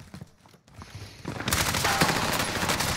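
Rapid bursts of gunfire in Warzone, starting quiet and then swelling into loud, continuous automatic fire with no talking over it.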